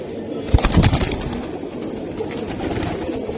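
Pigeons coo softly up close, a low burbling call near the start, then steady background hiss.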